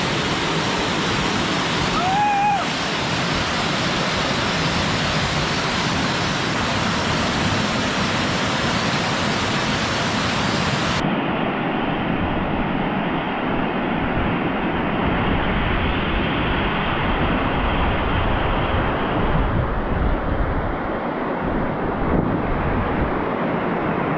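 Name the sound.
Kuderan waterfall rushing water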